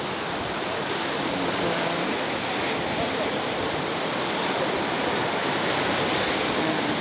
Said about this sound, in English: Water is hitting right up to inside the restaurant.